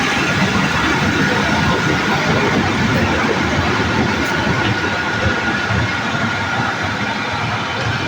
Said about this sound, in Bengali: এই দেখুন ট্রেন ছেড়ে দিচ্ছে